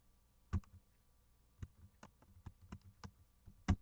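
Keywords typed on a computer keyboard, a handful of close, distinct key clicks in an irregular rhythm with short pauses, in an otherwise quiet room.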